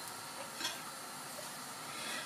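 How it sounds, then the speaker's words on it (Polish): Crepe batter frying in a pan greased with only a little fat, a steady, soft sizzle and hiss that stays even throughout, close and fairly quiet, with a faint stir or scrape partway through. "No i obsmażamy."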